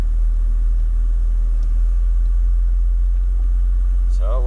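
Porsche 964 Turbo engine heard while driving: a steady, deep low rumble that holds evenly throughout, with a brief voice near the end.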